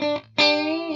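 Guitar run through a BOSS DD-3T delay pedal set for a short, reverb-like wash: two picked, distorted notes ring out, the second swelling back loud and sustaining with a smooth smeared tail.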